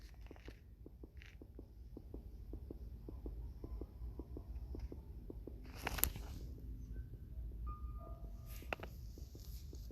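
A low throbbing heartbeat pulses steadily in the horror video game Granny, regular soft thumps over a dull hum, with a couple of faint clatters and no speech.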